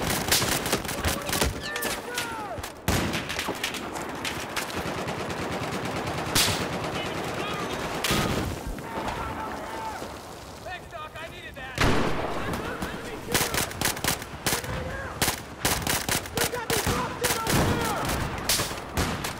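Battlefield 4 multiplayer Conquest on Xbox One: heavy, near-continuous automatic gunfire with sharp cracks and brief lulls, while a player talks over the shooting.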